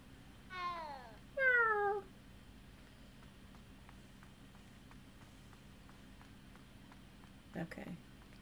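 A video-game cat gives two clear, drawn-out meows close by while being petted. Quiet ambient sound follows, with a brief soft patter of steps near the end.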